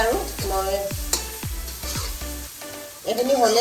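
Spiced meat (gahori, Assamese pork dish) frying in a pan with salt and turmeric, stirred with repeated scraping strokes over a steady sizzle, close and fairly loud.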